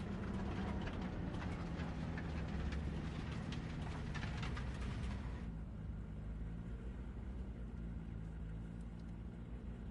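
A train in the video game Cyberpunk 2077 runs with a steady, loud, low rumble and rolling mechanical roar that holds for the whole stretch, its hiss dropping away partway through, with no talking.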